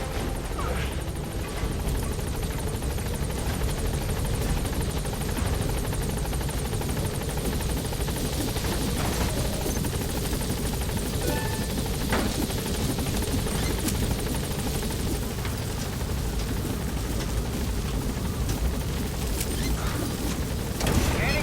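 Helicopter in Metal Gear Solid V climbing and gaining altitude, a steady dense rotor and engine roar holding at constant loudness throughout with no voices over it.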